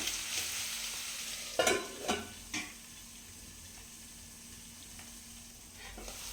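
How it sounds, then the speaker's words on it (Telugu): A bottle gourd peel curry is stirred in a pan, with several distinct scraping strokes over a soft steady sizzle, then quieter frying. "మొత్తం కలిసేదాకా ఇట్లా కలుపుకోవాలి."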